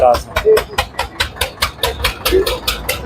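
A 2005 John Deere 5310 tractor engine running at a tractor market in Moga, with a fast, even diesel thump of about four beats per second, loud and close.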